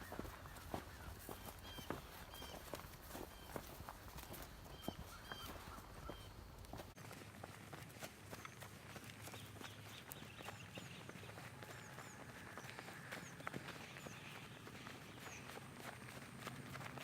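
Footsteps walking across a farm toward goat pastures in spring, a steady run of faint crunching steps that continues throughout, with soft background rustle and occasional bird calls.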